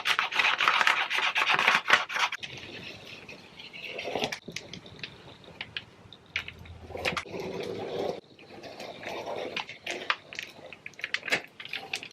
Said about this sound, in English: now that that's all ready, I'm going to cut all of the little pieces out.